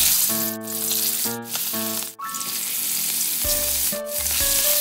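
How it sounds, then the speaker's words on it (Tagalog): Pieces of yellowfin tuna fry in hot oil, giving a steady, close crackling sizzle that runs throughout beneath background music. "start na tayo magprito"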